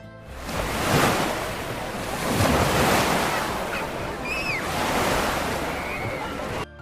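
Sea waves surge and wash ashore in slow, rolling swells, with steady wind noise and a few faint bird calls.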